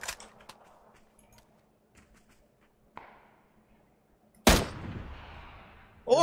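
Scattered M16 rifle shots in PUBG, a few faint single cracks spread apart, then one loud close report with a ringing tail and another sharp shot at the end.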